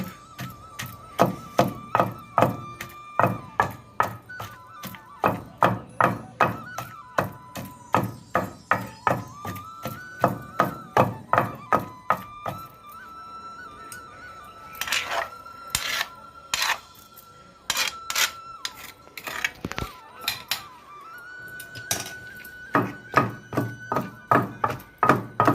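Green chillies are pounded into chutney in a stone mortar, making steady rhythmic thuds and knocks, close and fairly faint, with a short pause partway through before the pounding resumes.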